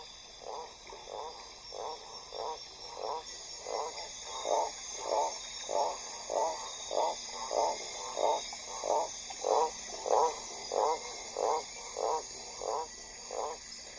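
Adult frogs calling in a steady rhythmic chorus, about twenty evenly spaced pulsing croaks over a constant high insect-like drone, moderately near and clear.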